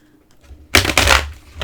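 Oracle and angel cards shuffled by hand, a quiet lead-in followed by a loud burst of rapid riffling and slapping card noise lasting about a second, close to the microphone with no talking.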